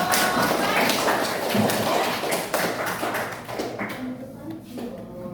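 A classroom audience applauds a student group after its presentation: dense, steady clapping from many hands, fairly close, that thins out toward the end.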